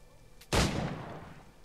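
A single sharp gunshot in the video game Assassin's Creed 3 cracks out loudly and then decays into a rumbling tail over about a second.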